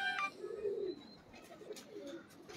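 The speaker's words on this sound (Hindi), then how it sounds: "चस देखे मजा लें इन कबूतरों को" Pigeons cooing close by, several low, rolling coos in a row over a quiet room, with a few faint chirps and light clicks in between.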